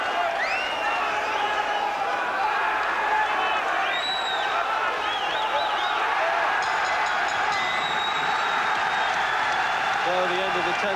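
A 1990 boxing crowd at Billy Hardy v Orlando Canizales roars and cheers as the 10th round ends, a dense, steady wall of noise from the whole arena with a commentator talking over it.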